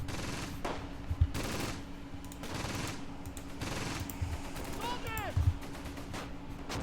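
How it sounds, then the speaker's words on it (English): Incoming gunfire in the Close Combat wartime strategy game crackles in rapid machine-gun bursts and scattered shots over a steady background rumble, with occasional deeper thuds. "Alright, incoming fire."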